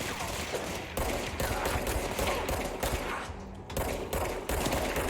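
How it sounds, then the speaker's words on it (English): Rapid automatic gunfire in a first-person shooter video game, loud and near, fired in dense sustained bursts with short gaps between them. "Wow, that was terrible shooting."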